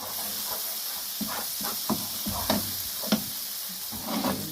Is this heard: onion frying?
yes